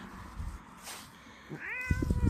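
An agitated cat yowls and growls, a single long rising-and-falling wail followed by rough, pulsing growl sounds, close and fairly quiet with faint room noise and no speech.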